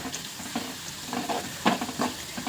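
Garlic frying in a little oil in a pan, giving a soft ongoing sizzle with occasional stirring scrapes and light clinks, close and moderately quiet, with no talking.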